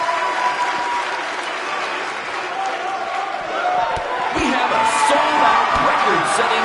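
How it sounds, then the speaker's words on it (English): A loud, sold-out arena crowd in the WWE 2K19 wrestling game claps and cheers in a continuous wash, with scattered thuds and whoops rising near the end over faint talk. "record-setting crowd"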